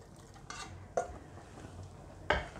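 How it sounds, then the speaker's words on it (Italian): Quiet stirring of half-cooked potatoes in a kazan on a stove, a few soft scrapes and light metallic knocks of a utensil against the pot, spaced out over a faint background. "Mescolo piano piano."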